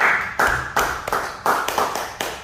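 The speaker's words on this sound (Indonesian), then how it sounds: "mari kita beri aplaus Bapak Muhroni" Audience applause greeting guest speaker Muhroni, an EVP at contractor Utama Karya, at a business talk; a loud wash of clapping that swells in repeated bursts and carries on without pause.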